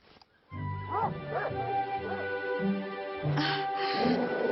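A dog barks and yips repeatedly up close, a series of sharp, whiny barks in quick succession with a short quiet pause before the start.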